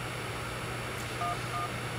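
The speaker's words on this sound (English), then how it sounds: "Oh wait, that is my phone." Two quick electronic phone tones beep over a steady background hum in the Super Paper Mario video game, signalling an incoming call.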